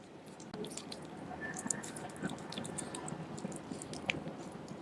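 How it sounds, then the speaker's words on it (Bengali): A cat chews its food up close, giving soft wet squishing and smacking bites in an irregular patter, faint and steady in a quiet room with no talk. "তো চপর চপর কেমন একটা আওয়াজ হচ্ছে"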